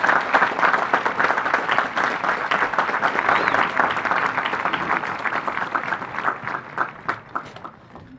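A high school graduation audience applauds, with loud, dense clapping that carries strongly and fades gradually toward the end.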